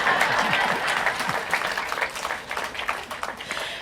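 An audience at a post-screening talk for a film claps, a dense patter of applause loudest at the start and thinning slightly as it continues, with some voices mixed in.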